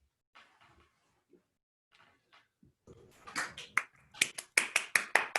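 Scattered taps give way to a growing burst of hand clapping from a small group on a Zoom call, sharp claps getting louder and denser toward the end.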